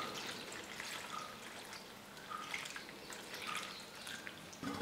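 Water drains and drips from boiled potatoes in a metal strainer in a home kitchen, a steady soft trickle with scattered drips, fairly quiet and close, no talking.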